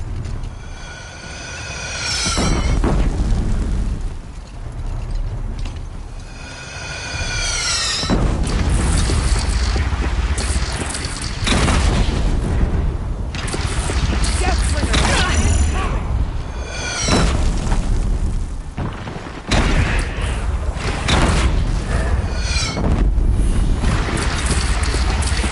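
Loud cannon blasts and explosions boom through a video game battle, with repeated heavy bursts layered over a constant rumbling din and a few distorted voice-like cries.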